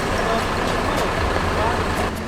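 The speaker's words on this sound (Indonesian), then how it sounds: "bus LBJ Transport langsung OTW Ranah Minang" Rumbling diesel engine of an LBJ Transport intercity bus pulling away near a roadside agency, a loud, steady low drone with traffic noise around it.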